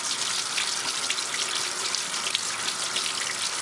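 Tap water runs steadily from a faucet as makeup brushes are rinsed in a sink, a continuous close hiss of flowing water with no voices, stopping abruptly at the end.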